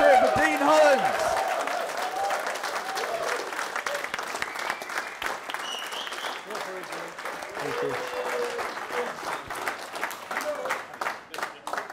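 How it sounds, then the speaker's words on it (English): Applause from an audience at a live talk welcoming a speaker named Dean Holland, a dense patter of clapping that starts strong and carries on steadily for several seconds, with some voices and calls mixed into the crowd noise. "Give him a nice big round of applause."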